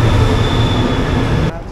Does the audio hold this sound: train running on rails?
yes